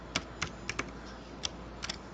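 Several sharp clicks of keys being pressed on a computer keyboard while a simple C program is typed into Notepad, in irregular short bursts, close and clear, with no talking.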